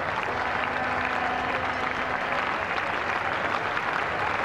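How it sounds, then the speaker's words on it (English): Cricket crowd applauding England reaching 50 during the fifth Test against the West Indies in 1984; broad, even clapping from a large stadium crowd, distant and sustained, with no commentary over it. "So applause for the 50 going up"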